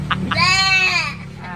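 A motorcycle horn rigged to sound like a goat rings out in one long, wavering bleat with clear harmonic layers, preceded by a couple of short chirps, close and loud over a low background rumble.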